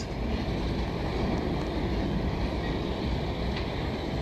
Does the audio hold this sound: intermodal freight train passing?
yes